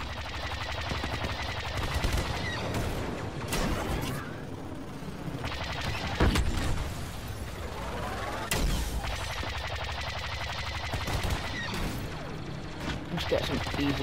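Continuous video game gunfire in Galactic Assault, rapid machine-gun bursts and single shots layered with crashes and impacts, loud and dense for the whole stretch with a voice talking over it now and then.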